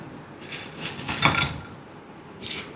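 Crispy fried fish cutlets, just lifted from hot oil, make a brief run of light, close crunchy taps and clinks that peak in a short cluster, then trail off quietly.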